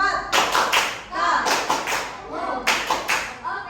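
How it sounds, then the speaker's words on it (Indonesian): Elementary school pupils in a classroom give a group of classmates a rhythmic patterned clap, with several short bursts of clapping and slaps separated by brief pauses and voices mixed in. "Tepuk oke untuk kelompok 4"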